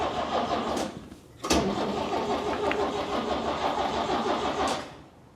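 A 1969 Chevy C10 pickup engine cranks with a starter whir, stumbles, then catches and runs rough, with sharp bursts as it fires and an uneven idle before dying down, heard from close by.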